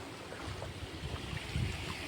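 Floodwater from heavy rain pours across a road between Vanthal and Jalampura, a steady broadband rush with low churning surges, close and continuous with no talk.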